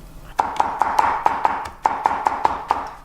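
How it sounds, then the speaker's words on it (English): Knife chops garlic and shallot finely on a cutting board, a close run of sharp, evenly spaced taps in two quick bursts with a brief pause between. "you want to make sure to chop up your garlic very finely"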